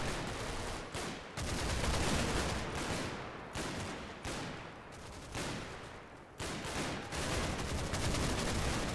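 Sustained gunfire in the war game Combat Mission: Battle for Normandy, with dense bursts of rifle and machine-gun shots broken by brief pauses, loud and continuous.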